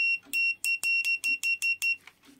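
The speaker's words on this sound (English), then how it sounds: "turn on the instrument, beep on" Buzzer of a HIOKI DT4261 digital multimeter beeping repeatedly, about eight sharp, high, evenly spaced electronic beeps in quick succession, close and clear with no talk.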